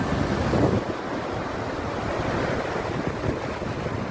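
The monsoon-swollen Khapri river near Pipri village, between Waghai and Ahwa in Dang, Gujarat, gives off a steady, dense roar of rushing water, with wind buffeting the microphone.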